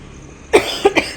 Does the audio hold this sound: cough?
yes